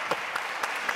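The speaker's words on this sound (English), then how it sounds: "I would like to have a big hand of applause for Afrika Melani" Applause from the audience at a fashion and design festival, steady mid-level clapping across the whole second with a few louder bursts.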